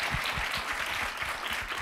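Audience applause at a tech demo day fills the space, a steady, fairly soft wash of many hands clapping with no voices over it.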